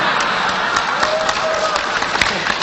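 Audience clapping at a public lecture on Pancasila by a Muslim cleric, a steady rattle of many hands with a few sharper claps, fairly close and alone without talk.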